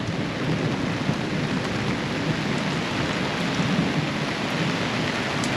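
Steady rain with a low, continuous rumble of thunder underneath, filling the whole stretch without pause.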